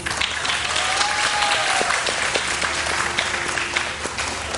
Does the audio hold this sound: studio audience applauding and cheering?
yes